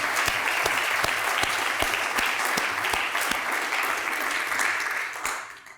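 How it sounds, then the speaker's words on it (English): Sustained applause from an audience at a faculty closing dinner: dense, steady clapping fills nearly six seconds at an even level, then thins and fades at the end. "Shall we clap again?"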